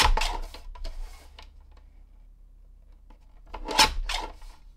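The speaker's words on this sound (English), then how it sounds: "So let's just trim off a smidge all the way around." A paper card has its edge trimmed, with short rasping cutting strokes near the start, a quiet pause, then another cluster of brisk scraping cuts close by.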